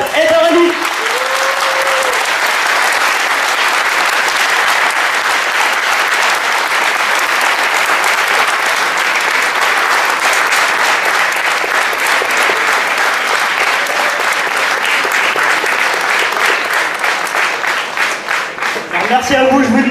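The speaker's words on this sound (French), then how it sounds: "Je voudrais, s'il vous plaît, que vous fassiez un tonnerre d'applaudissements pour le président de MZ" Sustained audience applause at a French community tournament event in Paris, a dense steady wash of many hands clapping for about twenty seconds, loud and continuous before tapering briefly at the end.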